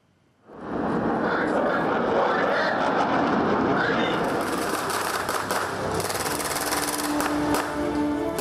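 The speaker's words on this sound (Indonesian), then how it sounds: "Atraksi pesawat tempur membuka rangkaian gladi bersih dan disusul upacara pembukaan" Military fighter jets fly over Monas in Jakarta during a dress rehearsal for the 80th TNI anniversary ceremony, a loud sustained roar that swells in suddenly and holds steady, with a broadcast voice talking over it.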